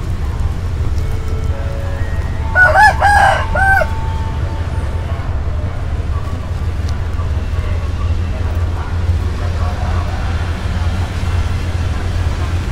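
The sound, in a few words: fighting roosters crowing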